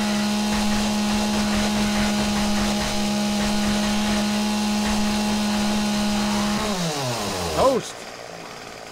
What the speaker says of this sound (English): Now, the chainsaw is really great for these guys.